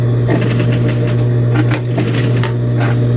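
Sewing machine running a short, steady topstitch pass on a garment pocket or pleat, with a loud continuous motor hum and rapid needle clatter throughout, heard up close.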